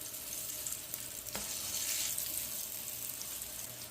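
Pieces of brinjal fry in hot oil, giving a steady, fairly quiet bubbling sizzle with one brief sharp tap.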